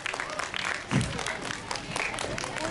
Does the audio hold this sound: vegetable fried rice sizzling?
no